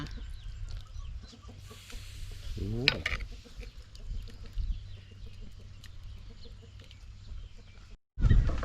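Chickens cluck near a rural vegetable patch, with a short, louder burst of calls partway through over steady background noise and faint voices.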